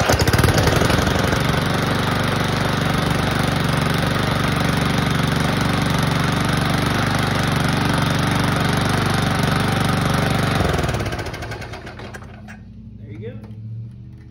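A Weed Eater push lawn mower engine runs loud and steady with a buzzing drone for about ten seconds, then winds down and stops, leaving quiet.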